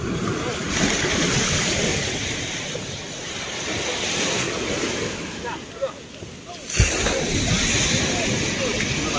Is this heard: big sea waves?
yes